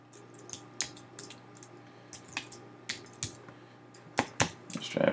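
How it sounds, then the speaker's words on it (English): Someone types on a computer keyboard in a quiet room, producing close, irregular clicks and taps in uneven bursts, some slightly louder than others, with no talking. "if I start typing MP3 here"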